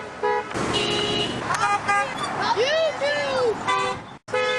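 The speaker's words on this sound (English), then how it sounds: "Honk for YouTube. Just honk." A passing car's horn gives a couple of short toots, loud and close, while a voice talks over the traffic.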